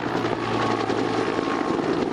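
A firefighting helicopter working over a wildfire gives a steady, loud rotor and engine roar throughout, close and continuous with no talk.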